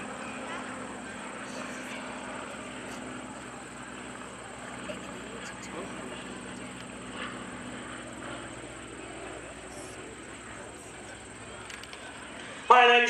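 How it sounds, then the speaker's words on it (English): An Aeronca L-16A propeller airplane, built in 1947, passes during an airshow at Greenwood Lake as a faint, steady distant drone, with muffled voices and crowd ambience underneath and a brief louder bump at the end. "Coming around from the left, here's Rich Wallen and an Aeronca L-16A"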